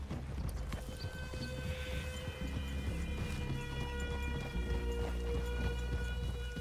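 Horses' hooves clip-clop in the video game Red Dead Redemption 2, a soft rhythmic patter of footfalls under a steady low ambient hum, moderately faint and without speech.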